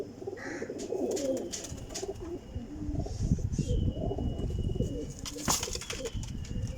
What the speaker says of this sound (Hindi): टैडी कसूरी कबूतर है इला